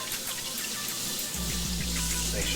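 Tap water running through an Apec water filter during a flush, a steady hiss that grows fuller and louder midway as the flow strengthens, close and continuous.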